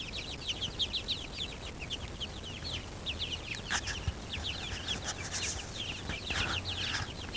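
A flock of chickens, including frizzle and silkie bantams, clucks in a run of quick, close calls that overlap across the whole clip against a steady background murmur, with no voices.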